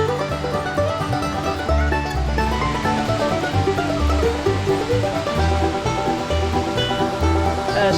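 A small creek runs through a drainage near Dockery Gap in Crawford County, Arkansas, its water flowing in a steady, fairly loud rush with a low rumbling churn throughout and no voices.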